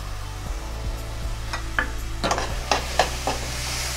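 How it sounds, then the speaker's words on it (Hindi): Turmeric, chilli, salt and dried fenugreek leaves frying in a pan with tomato, a continuous sizzle broken by several clicking spoon strokes against the pan, close up with no speech. "भूनेंगे थोड़ा सा।"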